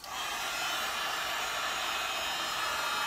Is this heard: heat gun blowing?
yes